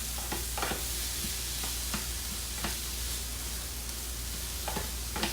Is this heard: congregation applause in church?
no